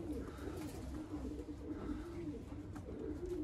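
Soft, low pigeon coos repeat in a gentle rolling rhythm, close but quiet, over faint background hum.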